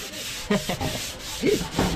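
Sandpaper rubbing back and forth over a painted surface in quick, rhythmic strokes, close up and steady.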